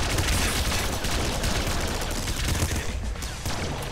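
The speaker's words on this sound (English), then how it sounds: "But the turret is fucking shredding stuff." Dense, continuous automatic turret gunfire in the Nuclear Throne video game, a loud, unbroken barrage of rapid shots with booming impacts throughout, heard alone with no talk.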